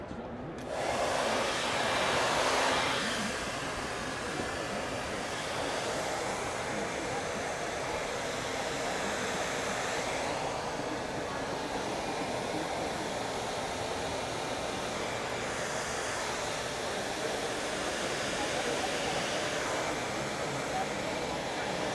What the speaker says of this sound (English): So Josie, why don't you hold the dryer?